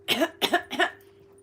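A person coughs after vaping, three quick, close, harsh coughs in rapid succession that trail off into quiet.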